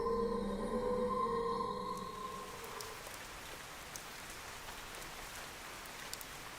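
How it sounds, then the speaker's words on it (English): Rain falling in the video game Fantasian Neo Dimension, a steady soft hiss of drops with occasional pattering ticks, fading in as a musical tone dies away in the first two seconds. "It was raining."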